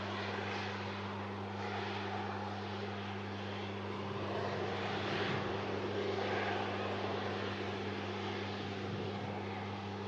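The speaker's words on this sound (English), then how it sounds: "Great touchdown from the Heavy." A heavy airliner landing and touching down on a runway, heard as a distant continuous engine roar over a steady electrical hum, swelling slightly midway.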